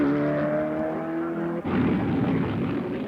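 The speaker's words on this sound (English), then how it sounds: "cars of every type racing around two different tracks at the classic Motordome" Race cars roaring around the steeply banked Daytona speedway during the 1972 qualifying race for the Daytona 500, a loud, continuous engine drone that shifts pitch midway as the cars pass.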